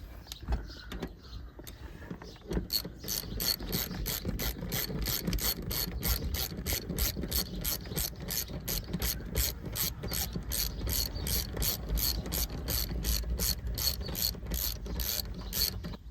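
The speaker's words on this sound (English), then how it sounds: "Let's twist that in there and let's get it tightened." Rapid, steady clicking of a ratchet tightening a bolt during a subwoofer install in a Chevy 1500 pickup, close and loud, running continuously for most of the stretch after a brief quieter start, with no talking.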